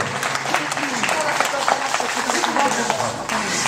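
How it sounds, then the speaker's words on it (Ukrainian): An audience claps at a folk music festival after a patriotic song, a dense, steady round of applause from a crowd, with voices talking over it. "Дякуємо, дякуємо вам за оплески"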